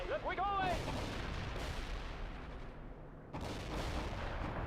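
Gunfire and artillery fire against the enemy in the video game Conflict, dense rumbling blasts and crackling shots that keep going, with a sharp new burst near the end and a brief whistling tone early on.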